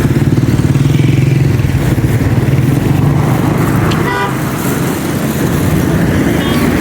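Busy main-road traffic in Afghanistan in hilly country: close engines and motorcycles rumble continuously, with a short horn toot partway through and faint background voices.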